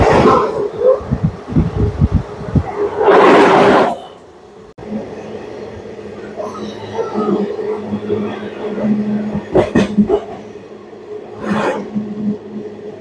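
Inside the Black Diamond Express passenger train running through stations without stopping, a steady rumble of rolling wheels and carriages carries on with occasional louder bursts and clatters, while voices talk over it.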